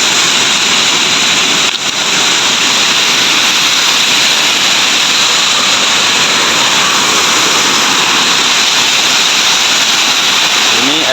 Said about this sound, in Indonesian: Ini air terjun agak tinggi ini, lebar.